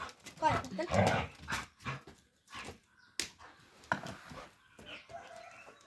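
A dog barking in short bursts close by at a rural home, with a rooster or hens clucking nearby, while someone talks throughout.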